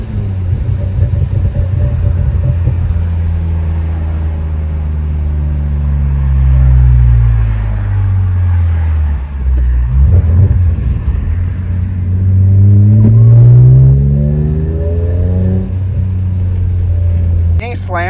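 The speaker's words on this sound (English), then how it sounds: "it is fun to rev the car out" A BMW E46 M3 engine revs up and falls back repeatedly on a slow road, a deep, loud, close rumble that climbs and drops in pitch over and over while someone talks over it.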